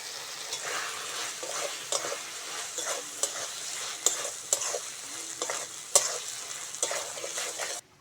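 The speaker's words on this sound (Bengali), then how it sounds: "এবার মশলাটা ভালো করে কষে নেব" Spice paste with ground chili, turmeric and salt being sautéed in oil for a fish curry, a continuous sizzle under repeated spatula strokes and scrapes, close and steady, stopping abruptly at the end.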